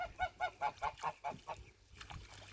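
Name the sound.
geese honking near water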